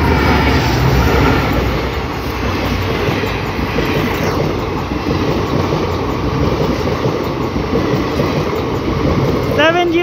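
A WDG4D diesel locomotive hauling a passenger train between Lalkuan and Kasganj roars past close by with a loud, steady rumble and the clatter of the wagons, and a high horn or whistle sounds near the end.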